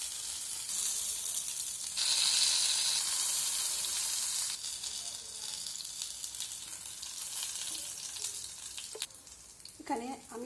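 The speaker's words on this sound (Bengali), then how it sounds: "এখানে আমি সব পটলগুলোর পেছনের অংশটা ভেজে নিয়েছি সুন্দর করে।" Pointed gourd (potol) pieces frying in hot oil, a hissing sizzle that surges loudly for a couple of seconds before settling into a quieter crackle, ending with a few close clinks of a utensil.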